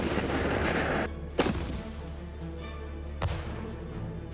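Ukrainian forces fire RPG anti-tank weapons in combat, heavy booming blasts echoing over a noisy rumble, with two sharp loud reports after the first roar.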